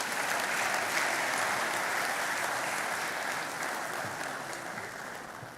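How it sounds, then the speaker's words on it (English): A large graduation ceremony audience gives dense, continuous applause, loud and even at first, then gradually thinning toward the end. "Another round of applause."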